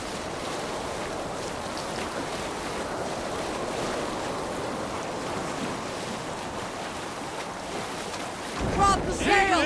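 Viking longship sailing the sea in Assassin's Creed Valhalla, a steady broad wash of waves and wind rushing around the hull, with a louder surge of splashing water right at the end.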